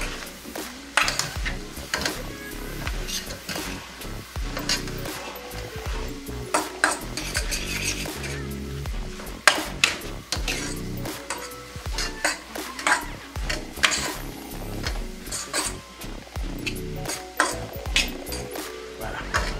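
Stir-fried noodles with vegetables, chicken breast, soy sauce and teriyaki sauce being stirred in a pan, with a steady close sizzle under repeated scraping and clinking of a utensil against the metal throughout.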